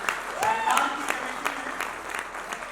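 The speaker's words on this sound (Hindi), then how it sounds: "तो जरा सा एक बार मेरे साथ तालियां बजाइए" An audience at a Hindi poetry recitation gathering claps together, with fairly dense applause that fades gradually. A voice is briefly heard over the clapping early on.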